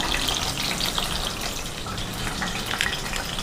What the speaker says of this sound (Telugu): మూత పెడదాం, సిమ్లో ఏగుతూ ఉంటాయి మంచిగా.